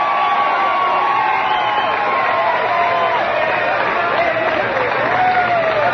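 A baseball crowd in Salt Lake cheers loudly after a strikeout, with sustained applause, whoops and shouting filling the whole stretch, and announcer-like voices mixed in.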